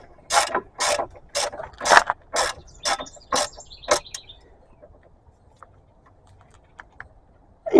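A ratchet wrench tightens the lower brake caliper bolt on a 2011 Subaru Forester during a front brake job. Eight loud, close bursts of rapid clicking come in a steady rhythm, followed by quiet with a few faint ticks.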